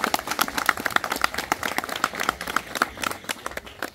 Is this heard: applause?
yes